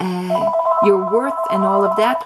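A telephone rings with a steady, repeating electronic tone pattern under continuous speech.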